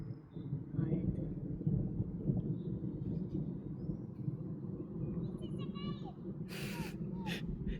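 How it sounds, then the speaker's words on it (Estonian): Low, faint rumbling of distant thunder rolls on through a quiet outdoor setting near a hot tub barrel, with soft voices and small sounds near the end. "Ja kuulame nüüd müristamist ka."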